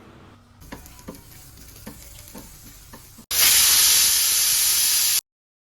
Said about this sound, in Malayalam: ഇനിയിപ്പോൾ കടലക്കറിയിലേക്കുള്ള തേങ്ങ ഒന്ന് വറുത്തെടുക്കട്ടെ.